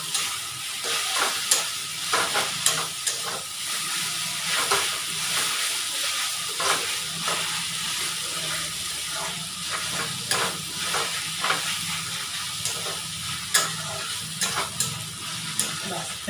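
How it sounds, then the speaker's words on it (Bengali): Five kinds of leafy greens stir-fry in a pan, a steady close sizzle and hiss broken by repeated scraping stirs of the spatula, with no voices. "হয়ে গেল পাঁচ শাক ভাজা,"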